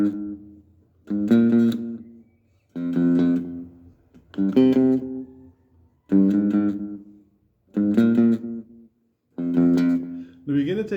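Bass intro of a song, a run of distinct, evenly spaced plucked phrases with short gaps between them, steady and close, with no voices.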